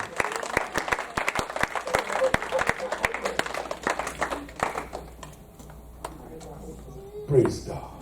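A church congregation claps for Jesus during a sermon, a dense run of hand claps filling the room for several seconds before thinning out, with voices and a preacher's talk mixed in toward the end.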